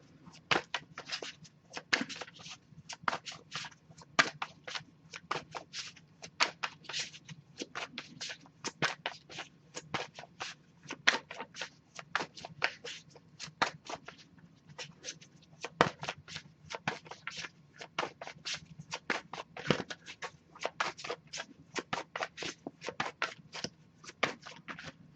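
Tarot cards shuffled by hand in a long steady run, the crisp riffling flicks coming in quick dense bursts that repeat almost without pause, close and clear with no talking.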